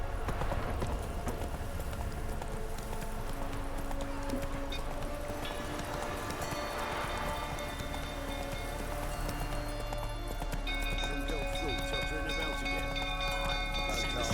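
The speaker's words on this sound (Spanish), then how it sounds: "¿Puedo pasar por aquí con el caballo?" Horse hooves clip-clop at a gallop in The Witcher 3, a dense steady drumming that runs throughout over constant game ambience.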